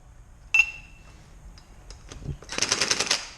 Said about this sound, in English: This is how I use my impact gun.